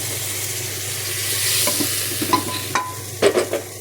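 Hot tempering poured into a pumpkin and bean erissery curry crackles into a loud sizzle, with sharp spattering pops building toward the end, close and alone without speech.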